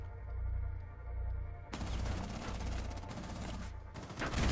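Gunfire in the video game Rainbow Six Siege, a dense burst of rapid automatic shots heard fairly quietly over a steady low game hum, breaking off briefly before more shots at the end.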